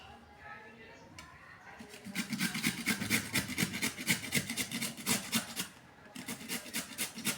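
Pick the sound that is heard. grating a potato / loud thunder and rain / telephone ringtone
grating a potato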